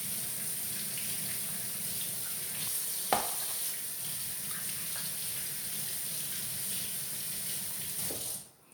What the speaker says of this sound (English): let me rinse this meat off.